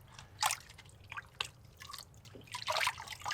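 Water rinsing and dripping inside a gold panning bucket, soft splashes and trickling drips arriving in small irregular bursts, close and fairly quiet.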